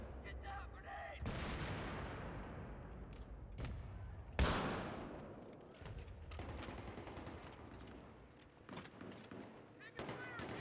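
Rapid gunfire crackles through a video game firefight, with two sharp, heavy blasts, the louder one likely a grenade explosion, bursting over continuous shooting and rumble as voices shout now and then.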